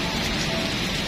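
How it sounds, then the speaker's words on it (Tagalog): Heavy rain from tropical storm Florita pours steadily as a dense, even hiss with no breaks, close and loud, and no voices over it. "Malakas na ulan. Ayun, malakas na talaga."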